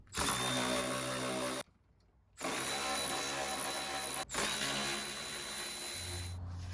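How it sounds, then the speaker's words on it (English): An M12 Fuel cordless ratchet loosens a 12mm bolt during removal of a Toyota 3.4 liter 5VZ-FE engine. It gives a loud, close motor whir, breaks off briefly, then runs again in a long steady burst. "Using this M12 fuel ratchet for the first time, it is way stronger than my other one."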